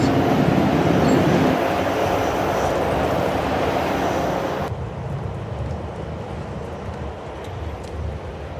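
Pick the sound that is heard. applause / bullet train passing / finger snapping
bullet train passing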